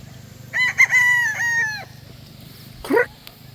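A Boston Sweater gamecock stag crows once, close and loud with a drawn-out wavering call, then gives a short squawk a moment later over a low background hum.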